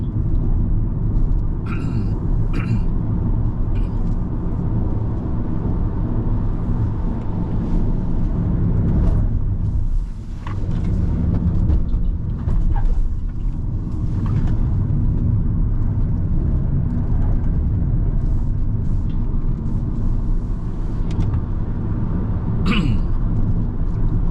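A BYD Dolphin electric car drives up a bumpy mountain road at Genting, its cabin filled with a steady low road rumble and occasional knocks and rattles over rough patches, while people talk now and then.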